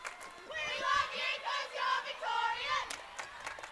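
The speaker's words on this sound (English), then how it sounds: "You can hear the cheer for Victoria" Spectators at a school netball championship cheer and yell for the Victoria team, a loud sustained crowd roar with high-pitched shouting voices rising and falling in waves.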